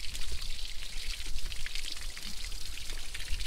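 Water pours and splashes steadily from an engine block being flushed with a hose after soaking in Evapo-Rust, a dense, continuous gushing and spattering with no talk over it.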